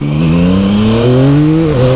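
A new motorcycle, still in its break-in period, accelerates hard with the rear tire spinning, a loud, close, continuous engine roar rising steadily in pitch with a brief dip near the end.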